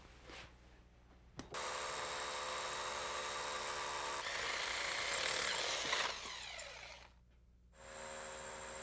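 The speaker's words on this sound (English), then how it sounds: "I'm going to use a carbide-tipped bit and a hammer drill" Loud, continuous whine of a hammer drill with a carbide-tipped bit grinding steadily through brick for several seconds, briefly stopping, then starting up again.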